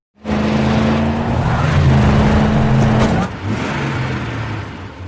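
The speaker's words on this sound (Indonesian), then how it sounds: "secara tiba-tiba mereka dikagetkan dengan kedatangan mobil" A car arriving in the 2008 film Eden Lake, its engine roaring loudly as it pulls in close, then the note drops and keeps rumbling steadily.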